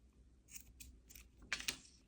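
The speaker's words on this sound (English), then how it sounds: "just try my best to cut it to the same length." Scissors snip through crochet yarn string, two quick crisp cuts close by after a stretch of faint handling noise.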